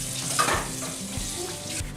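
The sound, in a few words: water running while washing something off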